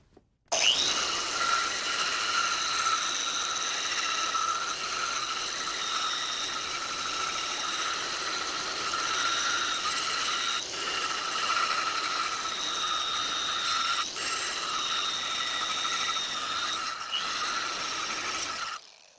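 Variable speed grinder fitted with a cup brush scrubbing scale off steel for a Persian-style blade, giving a steady, loud whining buzz with a harsh abrasive rasp that runs throughout.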